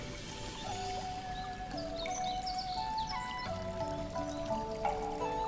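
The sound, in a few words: flowing creek water in the video game Fate Seeker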